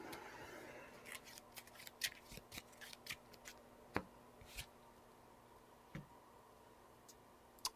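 Cards being shuffled during a Marvel Champions card game, heard as a faint, quiet run of crisp clicks and riffling snaps spread irregularly across the moment, with no voices.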